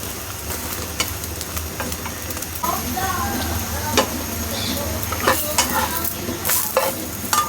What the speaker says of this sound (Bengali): আর আমরা খাবো হলো এই যে পেঁয়াজ কাঁচামরিচ দিয়ে ভাজা ডিম।